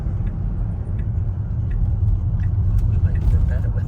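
A Tesla turning with Full Self Driving engaged gives a steady low road rumble and faint engine-like hum from inside the cabin, continuous throughout with no talk over it.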